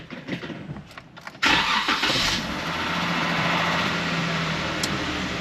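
A Jeep JK with a faulty TIPM starts up after sitting for days: a few faint clicks, then the engine catches abruptly and settles into a loud, steady idle close by.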